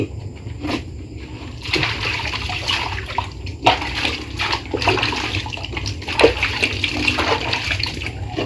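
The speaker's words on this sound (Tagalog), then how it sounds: "Ito po yung puno ng saging, huhugasan ko po muna." Water splashes and pours over a banana tree trunk as it is rinsed outdoors, a continuous close wash with irregular surges and no talking.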